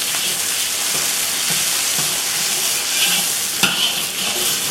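Loud, steady sizzling of onions frying over high heat in hot oil for chicken fried rice, with occasional stirring scrapes and pops, close up and without talk.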